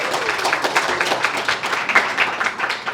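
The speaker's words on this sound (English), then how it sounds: "Big round of applause, that's nice." Applause from a conference audience at an expo content session, a dense steady patter of many hands clapping throughout, fairly close and loud, with no voices over it.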